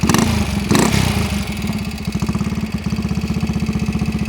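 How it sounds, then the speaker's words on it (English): A 1972 Harley-Davidson AMF SS350 engine runs close by with a fast, even, throbbing beat and a metallic clatter. A louder blip comes near the start, then it settles into a steady idle with no talk. "Survivor, 800 miles on it, one owner bike, and it runs like brand new."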